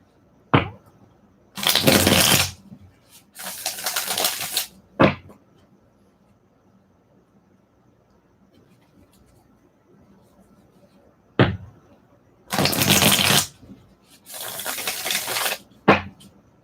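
Tarot cards being shuffled by hand in repeated bursts, each a dense riffling rush bracketed by sharp taps as the deck is squared, close and fairly loud with quiet pauses between.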